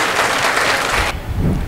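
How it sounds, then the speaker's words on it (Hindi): Loud applause from an audience at an awards ceremony welcoming a speaker to the stage, dense clapping that cuts off abruptly partway, leaving a quieter room tone. "जोरदार तालियों से स्वागत करें।"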